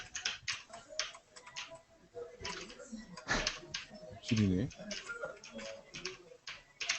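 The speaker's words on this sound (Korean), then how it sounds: "이분 집이 얼마나 넓으면 키보드 소리가 울리지?" Rapid keyboard typing clacks on steadily with a slightly roomy echo, while a voice speaks briefly over it.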